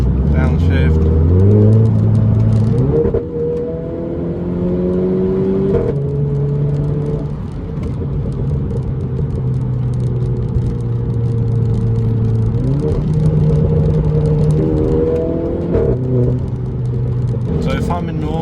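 A Renault Clio RS engine in race mode with traction control off revs loudly, its pitch climbing and dropping in steps through downshifts, steady and close throughout, while someone talks over it.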